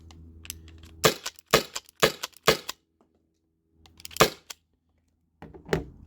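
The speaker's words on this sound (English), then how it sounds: "So another Byrna SD with Byrna kinetics." A Byrna SD CO2 launcher fires Byrna kinetic rounds: sharp, close cracks come in a quick cluster of four, then a lone shot after a pause, then another, each a short dry snap against near silence.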